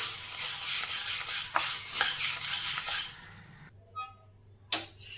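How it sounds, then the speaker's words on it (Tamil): Green gram dry-roasting in a pan while being stirred, giving a steady, close scraping and rattling hiss for about three seconds before the stirring stops and only a few faint scrapes remain. "இதை நல்லா வாசனை வர வரைக்கும் நம்ம வறுத்து எடுத்துக்கோம்"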